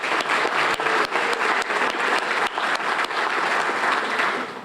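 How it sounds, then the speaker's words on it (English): A luncheon audience at a United Way kickoff event breaks into steady, dense applause that holds at full strength for several seconds, with no talking over it. "Please give them a round of applause."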